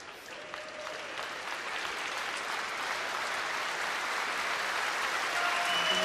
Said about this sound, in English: a round of applause, and also some players leaving the arena, hence the applause.